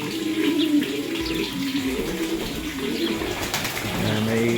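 Pigeons coo softly in a breeding loft on a rainy day, low throaty calls repeating over a steady background of rain and running water, fairly close and moderate in level.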